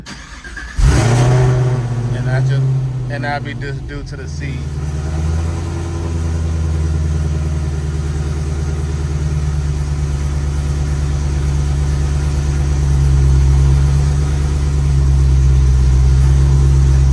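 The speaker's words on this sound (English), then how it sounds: "let's go ahead and let's start the car up" A car engine cranks and starts with a loud burst, then settles into a steady low idle; a voice speaks briefly near the start.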